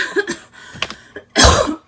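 A sudden harsh cough near the end, preceded by faint rustling and a soft throaty sound, close by.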